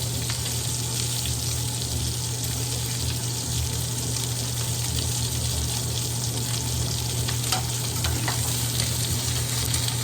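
Steak searing in butter in a pan, a loud continuous sizzle and crackle with a steady low hum underneath and no voices, close and constant for the whole stretch.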